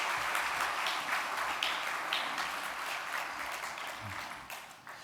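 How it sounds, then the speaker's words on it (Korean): A church congregation applauding to welcome visiting missionaries, a dense, sustained patter of clapping from many hands that slowly fades toward the end, heard from a distance. "우리 박수로 맞이해 주시면 감사하겠습니다."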